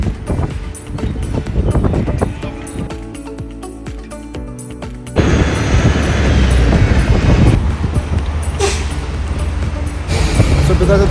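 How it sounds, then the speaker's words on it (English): Wind gusts outdoors in Cape Town, rushing noise growing louder partway through and staying strong and close to the microphone, with other outdoor noise underneath. "The sun is out, nice breeze blowing, wind blowing."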